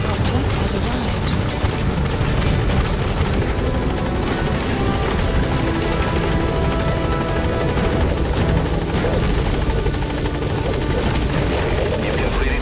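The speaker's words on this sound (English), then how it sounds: "Support helicopter has arrived." A support helicopter arrives in the video game Crysis 3, its loud, continuous rotor roar filling the scene at a steady level the whole time.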